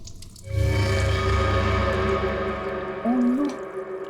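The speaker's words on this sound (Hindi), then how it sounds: "बाथरूम में पानी भरने की आवाज आ रही है।" Water running to fill a bathroom tub or bucket, a steady close rush with a brief rising gurgle near the end, playing alone without talk.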